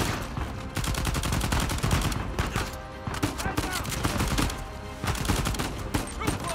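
Gunfire in Uncharted 4 during a heist level, dense rapid bursts of shots and impacts filling the scene almost without pause, loud and continuous.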